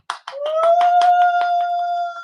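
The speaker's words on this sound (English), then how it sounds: "A round of applause." A small group claps in quick succession at the close of a live makeup-and-conversation show, with about a dozen bright claps fading out while a steady tone holds underneath.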